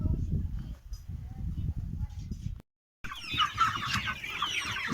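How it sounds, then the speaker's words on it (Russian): Half-grown chicks grazing on grass in a garden, with soft clucks under a voice at first, then a brief gap followed by brighter, closer chirping and clucking. "Здесь цыплята, большие уже, траву едят."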